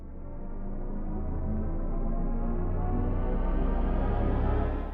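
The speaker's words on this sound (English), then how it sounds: "That's the sound of BMW's Vision M Next." BMW Vision M Next electric car's synthetic sound composed by Hans Zimmer, a deep, droning electronic tone that swells and slowly rises in pitch, loud and continuous throughout.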